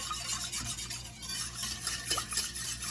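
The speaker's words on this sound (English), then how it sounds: "we're whisking up all the ingredients here" Ingredients for a jam-based recipe being whisked in a bowl, a soft continuous scraping and swishing close by, quiet and steady with no voices over it.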